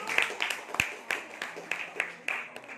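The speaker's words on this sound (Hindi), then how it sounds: "तालियां के साथ उनको स्वागत" A handful of people give sparse, quiet claps to welcome students invited up to present at a school class activity. The slow, scattered claps are separate and irregular rather than a full round of applause.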